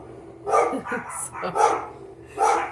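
Small Chihuahua barking repeatedly indoors, several sharp yips in quick succession, with a person speaking briefly between barks.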